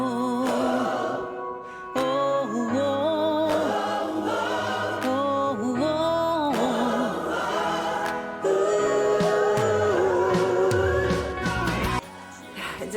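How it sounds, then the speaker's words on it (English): A recorded song featuring a choir built from stacked vocal harmonies, with many layered sung voices moving together in sustained, shifting chords at moderate loudness, no speech over it. "we just kept stacking them until we had what sounded like a choir"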